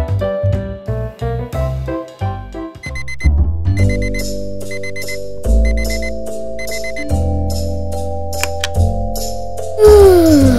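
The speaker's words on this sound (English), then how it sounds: "Tomorrow, I will have to get up very early, so I will set up my alarm." A toy alarm clock rings out loud in a kids' doll-play hotel scene, a bright repeating melodic chime pattern running steadily for about ten seconds with no talking over it.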